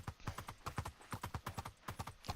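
Horse hooves clip-clopping in Minecraft, a quick, steady run of crisp hoof beats in regular pairs, close and fairly quiet, with no voice over it.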